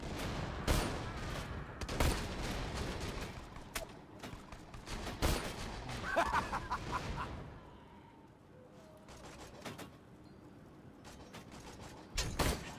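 Rapid bursts of gunfire crackle through a noisy Borderlands 2 game soundscape, sharp shots clustered early and sparser, quieter ones later, with mechanical clanks between.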